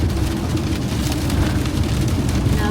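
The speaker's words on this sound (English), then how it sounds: "Well, it's raining." Rain drums steadily on a camper van while it drives on a wet road in New Zealand, a dense close patter over low road and engine rumble with no voices.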